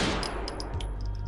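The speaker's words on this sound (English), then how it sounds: "I pulled my Glock from the pocket and shot him." A single Glock pistol shot cracks sharply at the start, followed by a brief metallic ring and decaying echo, loud and close with no voices.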